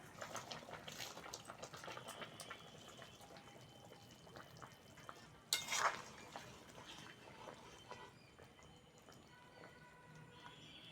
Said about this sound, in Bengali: ঝোল ভালোভাবে ফুটে গেছে ভেজে রাখা চিংড়ি মাছগুলো দিয়ে দেবো